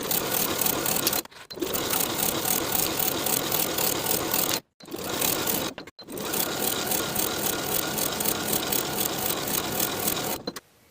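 A sewing machine stitching a back bodice seam on a knit cardigan runs in long, fast, steady bursts, briefly stopping three times before starting again, close and loud with no talk.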